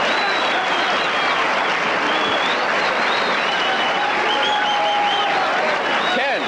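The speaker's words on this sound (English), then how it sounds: "the crowd on its feet" At a boxing match, the crowd is on its feet applauding and cheering in a dense, loud, unbroken wall of clapping and shouts, with a commentator's voice partly audible.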